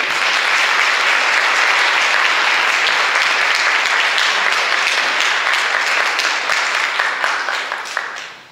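Loud, dense applause from a seminar audience honoring the speakers, a steady wash of clapping that holds for about eight seconds before tapering off at the end.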